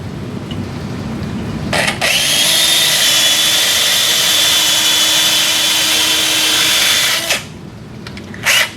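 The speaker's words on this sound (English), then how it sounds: "We're going to start with the radial hole first, and then remove it, and then drill the ulnar hole." A high-pitched surgical power drill whines steadily for about five seconds at close range, drilling into a sawbones bone model, starting and stopping abruptly, with faint handling noise around it.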